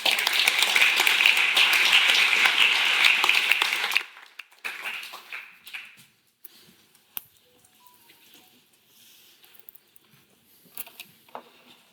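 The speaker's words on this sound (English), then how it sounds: "I'd like to give a great applause to Hanno Sauer." Lecture audience applauds a philosophy speaker, with steady dense clapping for about four seconds that stops abruptly, followed by scattered faint claps and a quiet room.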